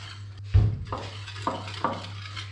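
Flour, salt and water being mixed in a bowl for samosa dough: a few sharp clinks and scrapes of a utensil against the bowl, close and fairly quiet, with pauses between them.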